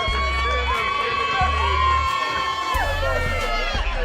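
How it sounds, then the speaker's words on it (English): Loud crowd cheering and applause for the champions at a national amateur basketball premier division final game in St. Kitts and Nevis, a steady roar of shouts and whoops with deep thumping bass music underneath, sustained throughout. "Give it up, ladies and gentlemen. Give them a round of applause."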